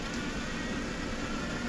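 A small electric motor on a motorised filament respooler for FDM printing runs at just under 12 volts from an old power supply, a faint, steady hum with no other sounds.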